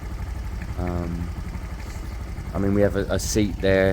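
A motorcycle engine idles low and close, chugging unevenly, under a voice speaking over it.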